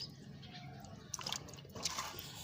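Hands knead sago pearls in a bowl of water while mixing grass carp fishing bait, giving faint soft wet squelches and small drips and trickles.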